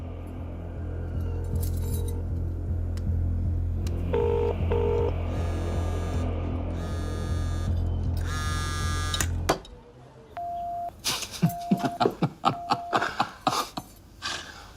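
A phone dials on speakerphone: a buzzing hum and ringing electronic tones give way to a string of distinct keypad beeps, loud and close, with sharp clicks between them.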